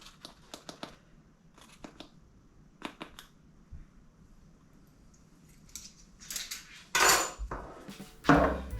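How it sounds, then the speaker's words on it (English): Flour and baking powder are sieved into a bowl in a home kitchen, giving soft scattered taps and light metallic clinks, then louder rustling, shaking bursts near the end. "before I completely sieve it, I'm going to add a teaspoon of baking powder."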